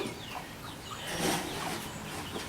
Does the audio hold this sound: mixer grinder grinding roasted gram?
no